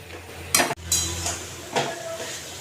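Spice paste and vegetables are stirred and fried in a pot, with a few clattering scrapes and clinks of the utensil against the metal over a faint background sizzle.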